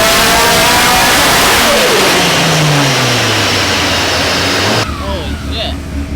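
A tuned, boosted car engine revs hard on a chassis dyno, its pitch sweeping upward as the driven wheels break loose and spin, then dropping sharply to a lower idle rumble near the end. The roar is loud and close.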